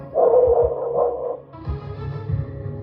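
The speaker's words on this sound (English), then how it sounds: "The neighbor's surveillance camera captures what police describe as a loud thud, the sound of a whimper, and a dog barking." A dog barks and whimpers briefly at a distance, picked up by a neighbor's surveillance camera, followed by a few lower muffled yelps and thumps.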